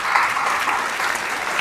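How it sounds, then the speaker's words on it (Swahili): Worshippers at a church service applaud the Lord, a brief burst of loud, dense clapping from a full congregation, close and continuous without speech. "Pigia Bwana makofi katika jina la Yesu Kristo."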